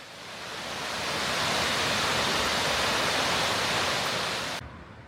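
Marmore waterfall roaring at a scenic viewpoint, a steady, loud, broadband rush of falling water that swells slightly and holds without a break, with no voices.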